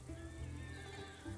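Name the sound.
horse neigh from the video game Humankind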